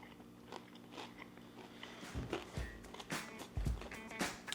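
Crunchy afternoon snack being bitten and chewed close up, with a few sharp crunches and softer mastication sounds over about four seconds, no talking.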